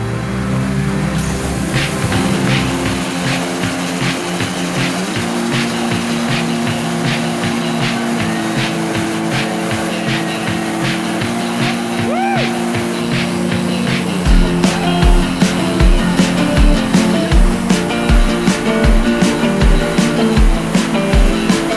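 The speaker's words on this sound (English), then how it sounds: "heel on the accelerator, hold it as high as you can, then sidestep that clutch" A car engine is held at high revs near 3,000 RPM, a loud sustained drone, then the clutch is dumped for a hard launch and the engine note becomes rougher and pulsing.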